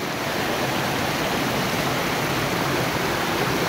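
Clear water rushes steadily near a waterfall, a loud unbroken wash of flowing noise with no pauses.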